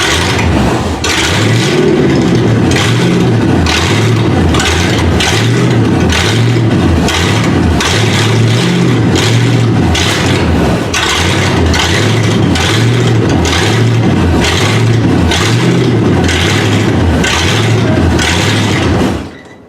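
1971 Ford Ranchero engine cranking repeatedly in quick rhythmic bursts, then catching and running with a loud, rough, steady idle close by, no one talking.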